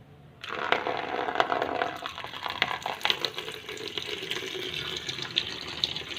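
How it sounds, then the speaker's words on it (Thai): Water pours steadily into a container, a continuous close splashing and trickling stream after a quiet start, with no talk. "ใส่น้ำไม่ต้องเยอะมากนะทุกคน"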